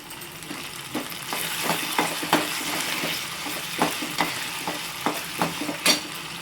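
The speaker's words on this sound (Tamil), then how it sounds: "பூண்டு நல்லா வதங்கட்டும்." Peeled garlic frying in a pan, a continuous close sizzle broken by frequent scraping stir strokes from a spoon against the pan, busy and fairly loud with no talking.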